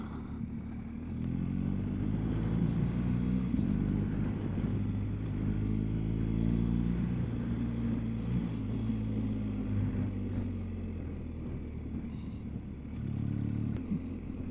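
A BMW GS 1250 motorcycle riding over gravel near a small bridge, its engine thrumming steadily and close with throttle swells, while crunching gravel and rattling sound underneath.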